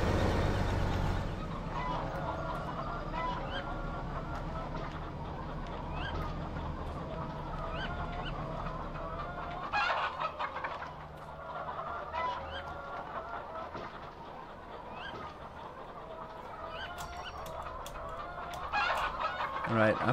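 Chickens on a virtual farm in Farming Simulator 2015 cluck steadily with scattered squawks over a low background hum, fairly quiet and continuous, with a few louder calls near the end.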